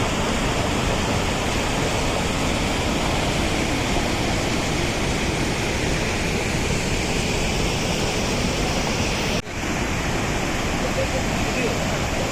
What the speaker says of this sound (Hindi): भेड़ाघाट का आनंद लेते हुए और धुआंधार जलप्रपात का बहुत ही खूबसूरत दृश्य यहाँ से।